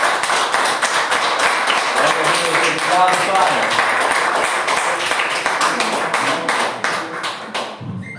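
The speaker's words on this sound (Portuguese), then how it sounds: "Então podemos dar uma salva de palmas ao Senhor?" Congregation applause during a Portuguese-language family Sunday church service, steady dense clapping for several seconds that tapers near the end, with voices speaking over it.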